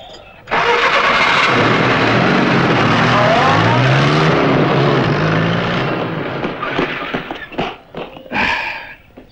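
Car engine starting: a sudden crank catches into a loud rough idle that runs steadily, then fades into scattered knocks and clatter near the end.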